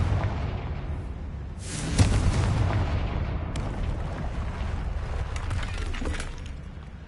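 A Confringo explosive spell from Hogwarts Legacy goes off with a sharp, loud crack and burst around the two-second mark, followed by a rumbling, crumbling tail and scattered debris-like clatter that fades gradually.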